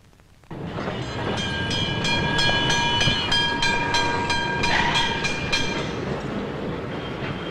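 A running tram starts after a brief quiet, then holds a steady loud rumble of wheels on rails, with rhythmic metallic clacks and a sustained high ringing squeal.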